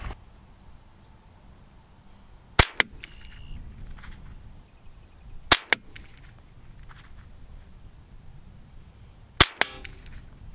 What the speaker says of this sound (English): We're gonna shoot three more from the same spot, but I'm gonna kneel.